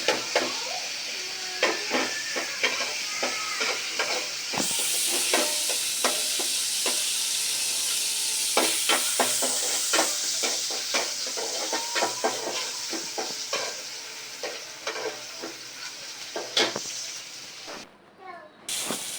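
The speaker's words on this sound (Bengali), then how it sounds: "এখন পেঁয়াজ ভাজা হচ্ছে" Onions frying in a cooking pot with steady sizzling hiss and frequent stirring scrapes and clinks, moderately close and fairly quiet, with a brief voice or two nearby.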